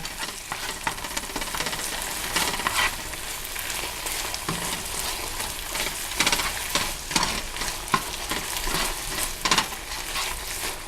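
Veal marsala sauce thickened with cornstarch bubbling in a pan, a dense frying sizzle punctuated by repeated stirring scrapes and utensil knocks, close and fairly loud, without talking.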